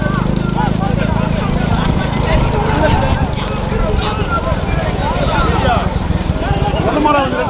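Bulls' hooves pound along the track during a bullock cart race at Kottur, a rapid, steady clatter heard close and loud beneath continuous crowd noise and voices.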